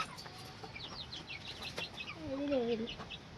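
A chicken clucks close by in a few short bursts, ending in a longer drawn-out cluck, over a faint outdoor background.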